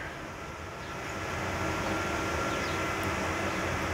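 A wind turbine with a permanent magnet alternator running in high winds, a steady broadband whoosh with a faint whine, growing louder after the first second and holding constant.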